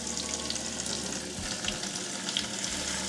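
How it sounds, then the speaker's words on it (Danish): Water poured from a bottle or jug into a bowl of coconut coir: a continuous trickling, splashing pour that runs steadily throughout at close range, with no talking. "Så hælder man sådan set vand i."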